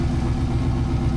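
A Dodge Challenger engine running on E85 through an unfinished exhaust rumbles steadily at idle, a dense, loud low-pitched drone that holds without a break.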